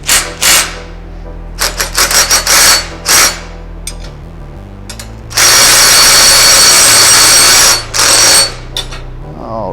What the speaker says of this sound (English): I'm going to use my drill as I cheat here to make this process go a little faster